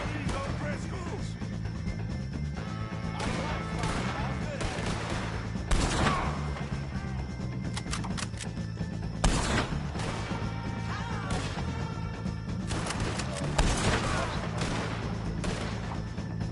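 Gunfire during a shootout with O'Driscolls in Red Dead Redemption 2, sharp cracks scattered over steady game background sound and music, with voices speaking at moments.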